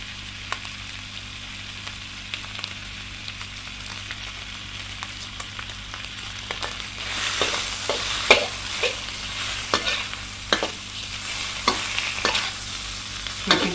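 Bread for French toast warming and cooking in a fair amount of oil in a pan, a quiet sizzle with occasional stirring clicks that grows busier and louder in the second half, no talk.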